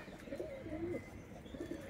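A pigeon kept by a fancier coos softly several times in a quiet, low-level setting, a faint near call with no one speaking.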